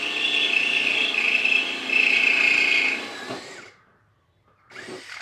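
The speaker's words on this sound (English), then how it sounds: "If you ever get fed up with chat, just get your drill out." Power drill boring a hole of about 5 mm during a camper van water tank install, a loud, close, steady high whine for about three seconds before winding down, then a short restart.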